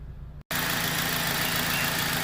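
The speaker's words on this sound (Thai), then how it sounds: "ฟังเสียงเครื่องยนต์นะครับ" A 2004 Honda Civic 2.0 engine with 240,000 km idles steadily at about 1,000 rpm nearby with a low, even rumble. A brief cut of silence comes before the continuous hum resumes.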